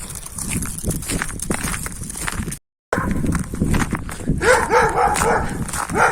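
Dogs barking and yapping close by with footsteps on pavement, busy and overlapping, with a brief dropout midway.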